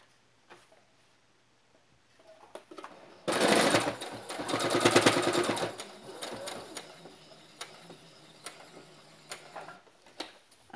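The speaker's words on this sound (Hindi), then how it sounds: "पूरा यहाँ तक सिलेंगे" A sewing machine stitching a frock, a loud rapid whirring run of a few seconds in the middle, framed by quieter ticks and clicks of the mechanism.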